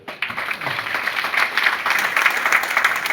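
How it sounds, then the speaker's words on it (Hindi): Audience clapping at a sales seminar, starting after a brief pause and building into steady, fairly loud applause from a sizeable crowd that continues evenly to the end. "एक बार इनके लिए ताली बजाओ"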